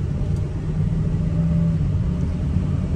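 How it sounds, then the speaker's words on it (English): A 2005 Ford Excursion Eddie Bauer with a 6.0L Powerstroke diesel and new injectors idles steadily, a smooth low rumble with a constant hum, close and unbroken, with no talk. "It just sits there and idles with those new injectors."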